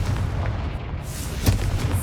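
A Confringo fire spell blasts in Hogwarts Legacy, a loud booming burst with a sharp crack midway, set against dense rumbling game noise.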